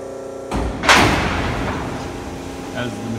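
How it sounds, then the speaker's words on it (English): A 12-station TTX Therma-Tron-X e-coat line with pretreat cycles forward between process tanks, giving a sudden loud mechanical clunk and a heavy thud, then a sustained industrial hum and rumble in a large plant. "As the machine cycles forward to the next station, then it will drop back down into the according tanks"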